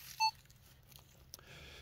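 A Minelab Manticore metal detector gives a single short, clear electronic target beep, brief and mid-pitched, against quiet outdoor background hiss with no talking.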